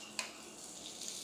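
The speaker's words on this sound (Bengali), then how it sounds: "ভালোভাবে এটা ফ্রাই করে নেব" Chopped spring onions frying in a pan for homemade momos give a quiet, hissing sizzle with a single light clink early on, a low-level, steady sound heard close without talk.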